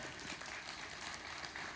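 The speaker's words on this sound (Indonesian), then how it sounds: "Coba yang setuju dulu tepuk tangan paling meriah untuk Tuhan Yesus ya." A church congregation applauds in a brief burst of dense, sustained clapping, fairly close and filling the whole moment without a break.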